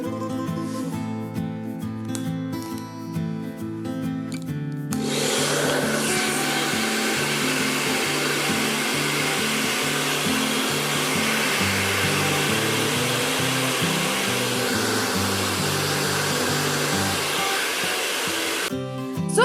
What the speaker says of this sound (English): Let's start with the dryer.